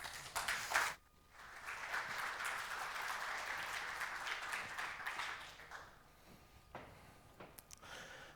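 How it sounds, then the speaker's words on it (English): At a software craft conference in Chicago, an audience gives a faint, distant round of applause to welcome a speaker on stage, a soft steady patter that swells, holds for several seconds and then fades into scattered claps. "with a warm applause from Chicago"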